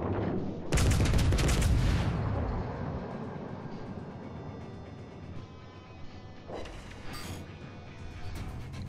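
A loud salvo from warship guns opens with a heavy booming burst, then decays into rumbling, followed later by a few smaller distant shots during a World of Warships Legends naval battle.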